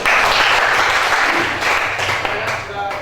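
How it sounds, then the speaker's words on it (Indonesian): Loud, dense applause from an audience at a classroom craft presentation, steady clapping filling the whole stretch up close. "Tepuk tangan ya."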